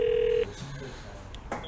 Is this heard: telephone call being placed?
yes